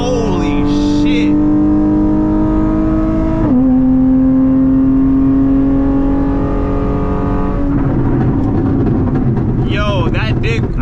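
Drag race car with a new transmission tune launching from a dig, the engine roaring through gear changes with rising pitch steps, loud and close, with excited voices over it.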